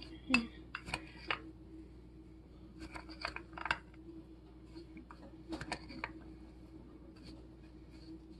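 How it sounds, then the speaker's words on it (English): A spoon clinks and scrapes against a bowl while stirring a rosemary mixture in a home kitchen, a few sharp, irregular taps spread over several seconds with quiet pauses between them. "Spoon. I'm going to mix it all up."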